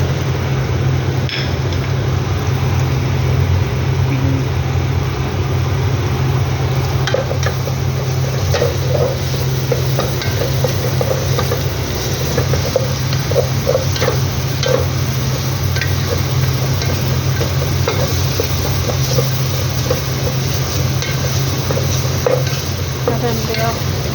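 Garlic fries and sizzles in a pan for biryani, a steady loud crackle with repeated scraping stirs of a utensil and occasional light clicks throughout.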